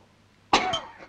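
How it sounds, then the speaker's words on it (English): A single short cough, followed by a brief rasping throat sound, close and fairly quiet after a moment of near silence. "Cough it up."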